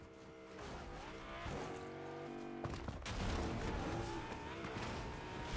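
A car in the Fortnite video game drives and revs, its engine tones rising and shifting with sharp bursts and skids mixed in. The sound is busy and close, with no talk.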